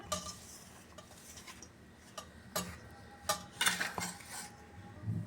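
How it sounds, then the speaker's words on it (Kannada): Rice and wheat flour being mixed by hand in a bowl for sorakkai akki roti, giving soft scraping and light clinking strokes in irregular bursts, close and quiet, with no talking. "ಇದನ್ನೆಲ್ಲನೂ ಮಿಕ್ಸ್ ಮಾಡ್ಕೊಂಡು ತೊಗೋತೀನಿ"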